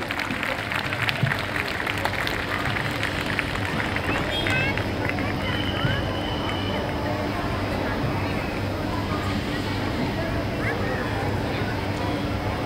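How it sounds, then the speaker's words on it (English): Audience applause greeting dignitaries and delegates at a college fest event, steady crowd clapping mixed with hubbub and murmuring, continuous and loud throughout, with a voice over it and a faint tone. "A huge round of applause, please."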